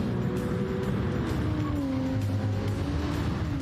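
Race cars roar through a chicane after a straight at Spa in Gran Turismo 7, a continuous loud engine drone with shifting pitch as several cars pass close together.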